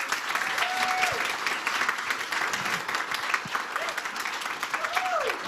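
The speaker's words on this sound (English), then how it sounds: "Let's give them a big round of applause." A conference audience gives steady applause for panelists after a talk on the economic empowerment of women and girls, a broad sustained patter of many hands with brief whoops and murmured voices mixed in.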